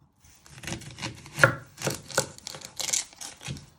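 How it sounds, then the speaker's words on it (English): Knife chopping the ends off an onion on a cutting board, a series of close, crisp thuds and slicing strokes at an uneven rhythm, with no talking. "You're first going to chop your ends off."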